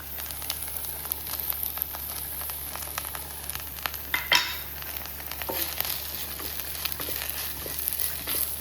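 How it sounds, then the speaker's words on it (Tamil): Ivy gourd frying in a pan with spice powder gives a steady low sizzle with intermittent scraping stir clicks and one brief louder burst midway, no voices. "நல்லா வதங்கிட்டு இருக்கு."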